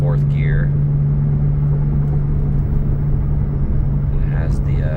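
A 2014 Porsche 911 Carrera S with a manual gearbox pulls hard in fourth gear, its engine giving a loud, steady, droning roar that runs throughout, with brief whistling sounds near the start and end.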